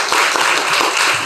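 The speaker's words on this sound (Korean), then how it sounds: "박수로 환영해 주시기 바랍니다." Audience applause greets a lecturer introduced at a talk on the climate crisis, nuclear phase-out and life extension of aging nuclear plants. A dense, steady patter of many hands clapping fills the room, moderately loud with no voices over it.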